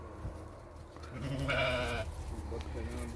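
A young billy goat on a small farm bleats once in a loud, wavering cry in the middle, with quieter farmyard noise and faint animal sounds before and after.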